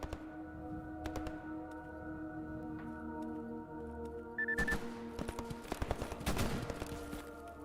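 Distant bursts of gunfire crackle in the STALKER Anomaly GAMMA game, scattered shots and short volleys rising near the end over a steady droning background hum.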